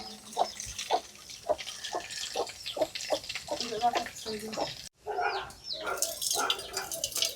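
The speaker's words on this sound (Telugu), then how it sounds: "దాంట్లో నీళ్లు పోసేస్తున్నా" Water is poured in repeated splashy bursts into a wild forest oil mixture being prepared by a traditional tribal method, with voices talking nearby.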